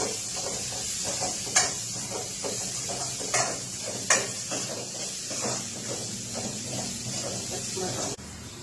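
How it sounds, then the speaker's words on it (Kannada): Onions frying in oil in a pan after cumin, turmeric and asafoetida, a steady close sizzling hiss with a few sharp crackles and spatters, running under a speaking voice until it cuts off near the end. "ಈರುಳ್ಳಿ ಹಾಕಿ ಫ್ರೈ ಮಾಡಿ."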